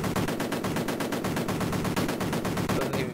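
Rapid, steady automatic gunfire from the Amiga game Cannon Fodder, a dense stream of loud retro shots rattling on without pause for the whole stretch.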